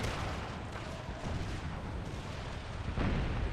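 Musket volleys crackle from a Spanish line firing on the flank in the Empire Total War video game, dense overlapping battle pops and booms in a continuous rumble, with a heavier burst near the end.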